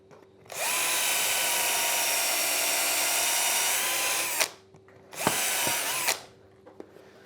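Power drill countersinking screw holes in a wooden trestle: a long steady whine of nearly four seconds, then a shorter second burst, close and loud with no talk.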